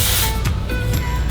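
Bursts of Orbe Dry Stick texture spray hiss onto styled wedding hair, close and loud, with short pauses between the sprays.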